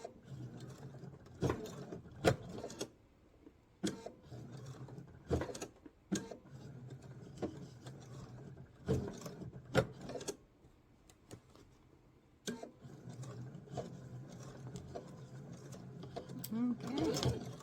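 A sewing machine stitching slowly through the extra layers of a travel pouch, steady quiet mechanical whirring in short runs broken by sharp clicks and pauses.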